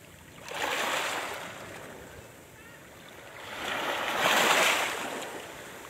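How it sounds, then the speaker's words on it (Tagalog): Small waves lap and wash onto the shore in two slow swells, a soft hissing surge rising, fading, then building again nearby with no voices. "Parinig ko sa inyo yung timyas at hampas o daluyong ng maliliit"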